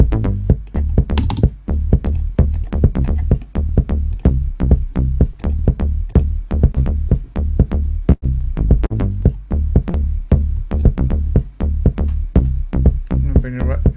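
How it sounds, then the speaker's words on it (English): A house music arrangement with the bass line playing in, built on steady, evenly spaced thumping beats that repeat loudly and continuously under a bright high tick. "Okay, let's bring the bass line in there."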